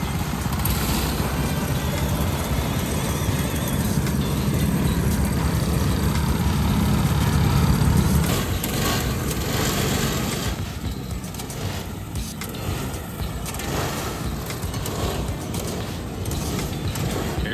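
Mini wedge racing karts run a heat race, their engines droning steadily at a distance with a rougher, louder stretch midway and mechanical rattles throughout.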